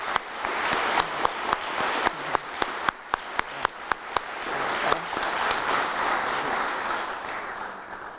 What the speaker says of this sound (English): Please join me again in applauding for our four Front Art Futures Fellows.